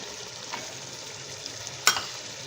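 Carrots drop into hot oil and roasted masala for a mixed vegetable sabzi, bringing a faint, steady sizzle and one sharp clink of a utensil against the pan partway through.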